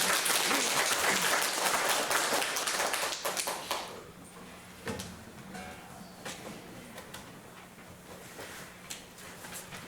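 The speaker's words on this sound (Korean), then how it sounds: "영광의 박수 드리겠습니다." Congregation applause at a Korean afternoon praise service in a church, a dense burst of clapping for about four seconds that thins out into scattered, separate claps and light taps in a quieter room.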